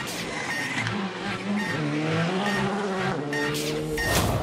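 A rally car tears through a stage of the 2019 Rallye du Var, its engine revving and rising in pitch as it passes at close range, with tyre noise audible and no talking.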